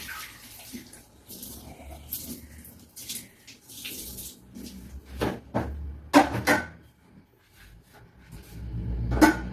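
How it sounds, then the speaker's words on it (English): A still-warm cooking pot washed under running tap water outdoors, with splashing and gushing bursts, clanks of the pot, and uneven swells of water noise throughout. "I am washing the pot."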